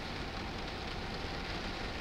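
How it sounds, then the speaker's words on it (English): Steady rain falls on a Tesla at a campground in Hershey at night, an even, hissing patter, faint and unbroken, with no voices. "Still raining."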